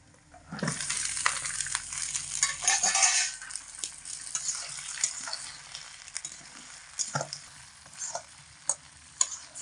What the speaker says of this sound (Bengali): এবার পেঁয়াজের মধ্যে ধুয়ে রাখা সিমগুলোকে দিয়ে দেব